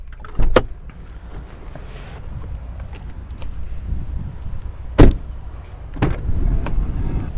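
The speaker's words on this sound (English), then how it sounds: "Very practical rear doors with a sliding function and it stays in position." The sliding rear door of a 2022 Mercedes Citan van opens and closes with a few sharp mechanical clunks and a rolling slide. The sounds are close and clear over a quiet interior background.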